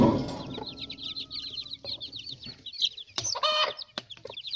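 A chick peeps in a rapid, steady run of thin high chirps while being given water, with a few louder fowl clucks and clatters breaking in near the end.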